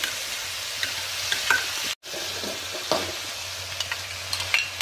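Onion and capsicum fry with chilli and tomato sauces in a pan for gobi manchurian, a close sizzle broken by repeated scraping stirs and a brief cut to silence partway through.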